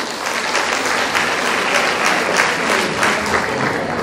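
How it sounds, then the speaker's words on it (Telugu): Audience clapping loudly and steadily at a Telugu-language gathering, a dense wash of many hands sustained throughout without pause. "ఒకసారి గట్టిగా క్లాప్స్ కొట్టాలి"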